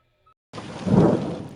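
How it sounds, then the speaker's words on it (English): A thunderstorm's thunder arrives as a sudden, loud, low rumble. It starts abruptly, swells, then fades over about a second, heard alone after near silence. "We've all been woken by thunderstorms."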